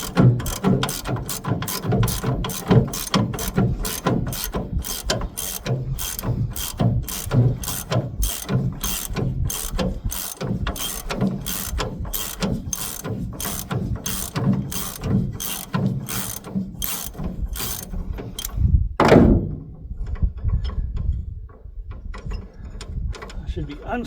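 A ratchet wrench unscrews a bolt on a Ford 9 inch axle in a steady, rapid train of sharp metallic clicks that runs close and loud for nearly twenty seconds, then stops as the work pauses.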